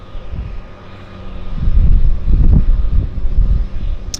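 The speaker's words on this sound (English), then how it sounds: "we got another Turbo Otter taxiing out for our beautiful morning" A Turbo Otter floatplane taxis out on the water at Vancouver Harbour, its turbine engine a steady low rumble that swells and grows louder partway through, with some wind noise on the microphone.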